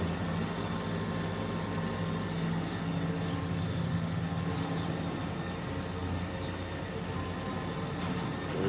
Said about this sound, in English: There's this engine sound as he walks in front of me, whatever the engine sound is.